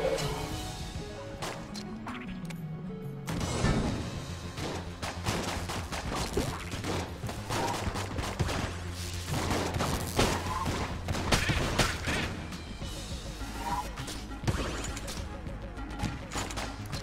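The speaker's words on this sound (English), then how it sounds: "Shots there." Dense, rapid gunfire from the video game Enter the Gungeon, loud and continuous, with bursts of shots, crashes and thuds piling on one another over a steady game soundtrack.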